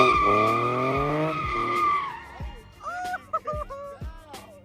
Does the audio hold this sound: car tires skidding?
yes